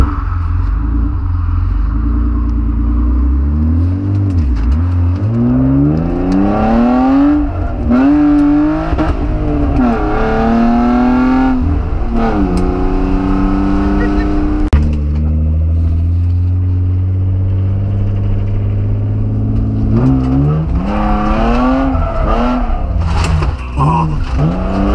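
Datsun 280Z with a welded differential driving, engine rising and falling through repeated revs and gear changes up close, with steady road rumble underneath and occasional tire noise.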